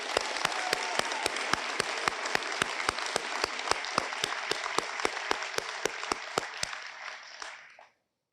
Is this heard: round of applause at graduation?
yes